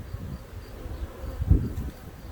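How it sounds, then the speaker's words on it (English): A swarm of honeybees hums steadily at the side of a hive during swarm hiving, a dense low buzz that stays constant throughout with a brief closer thump. "there's a whole bunch of bees on the side over here"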